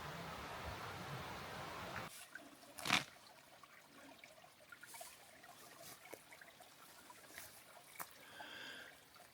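Water trickles quietly in a small mountain creek below the timber, a faint steady run of flowing water close by with a few brief splashes and knocks, no talking.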